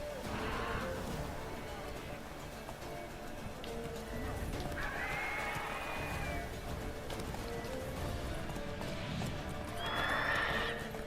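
Roach, the horse in The Witcher 3, whinnies over a steady game background, with two clear neighs rising around the middle and near the end amid faint hoof clip-clop and ambient battle noise.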